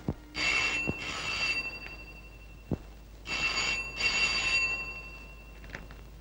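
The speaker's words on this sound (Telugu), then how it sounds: "ఫోన్ ఎత్తు" An old-style telephone bell rings in two separate long bursts of rapid metallic trilling, with sharp clicks between them in a quiet room.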